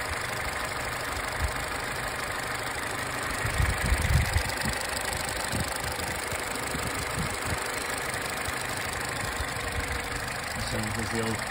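A Vauxhall 1.4 Ecotec car engine idles smoothly and steadily after a coil pack and spark plug change, a continuous mid-pitched hum with a brief rougher rumble partway through.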